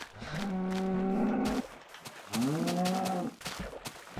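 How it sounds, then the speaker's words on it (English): Cows moo in the video game Minecraft, two long drawn-out lowing calls in a row, fairly faint, with some clicking and background noise between them. "Got some cows having a spa day."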